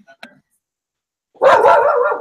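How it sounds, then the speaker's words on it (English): A dog barks once, close and loud, in a single sustained burst after a few faint clicks and near silence. "That's my dog."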